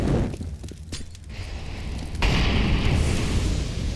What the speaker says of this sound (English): Nice grenade onto bolts. That'll soften them up.